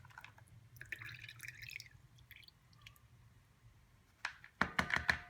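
Water dripping from boiled sunflower seeds held in a slotted spatula, faint scattered drips and then a quick cluster of close, wet drops and splats near the end.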